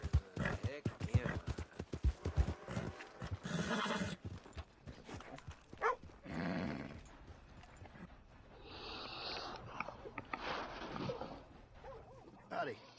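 A horse in the video game Red Dead Redemption 2 clops its hooves in quick uneven steps and lets out whinnies, close by and fairly faint, with voices talking over parts of it.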